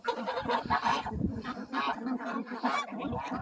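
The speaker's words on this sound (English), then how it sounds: "All right, you hungry geese, go eat some grass." Several geese honk loudly and close by, overlapping calls coming in quick, busy succession throughout.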